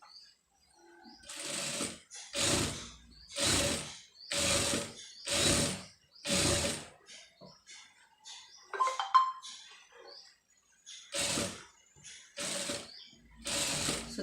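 A domestic sewing machine stitches an embroidered blouse in bursts, about ten steady whirring runs of rapid needle chatter separated by short pauses, close and clear with no talk.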